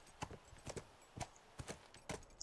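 Horse hooves clip-clopping on a hard floor inside a building in The Last of Us, five evenly spaced, distinct strikes at a steady walking pace, fairly quiet and with no speech over them.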